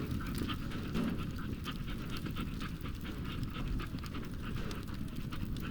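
A dog pants in the video game Teardown with quick, rhythmic breaths that run steadily and fairly softly under faint game background noise.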